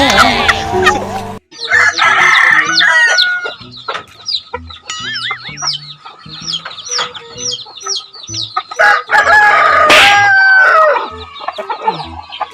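Roosters crowing repeatedly and loudly nearby, with clucking hens and other fowl calling in between.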